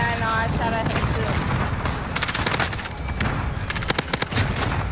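MP7 gunfire in a first-person shooter video game, rapid bursts of automatic shots in clusters over a dense game soundscape, with players talking throughout.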